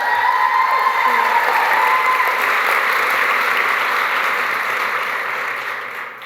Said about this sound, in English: So please give a round of applause for these amazing women